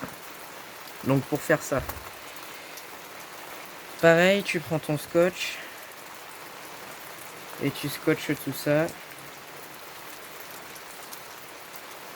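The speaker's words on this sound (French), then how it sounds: "Il pleut partout." Steady rain hisses in the background throughout, while someone speaks in short bursts over it.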